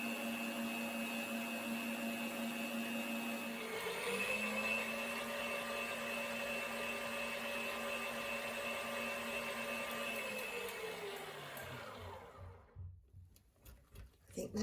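An electric mixer whirs steadily through vegan cream cheese with icing sugar, its motor tone dropping slightly in pitch partway as the load changes, then winding down and stopping with a few clunks at the end.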